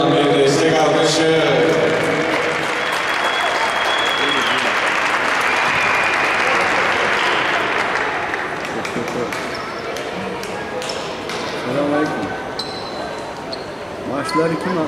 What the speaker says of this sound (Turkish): Gizem Sezer'e kocaman bir destek alkışı.